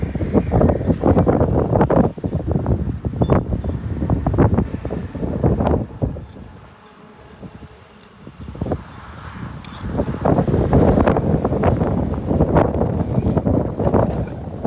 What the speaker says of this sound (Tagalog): Ang lakas ng hangin po ngayon.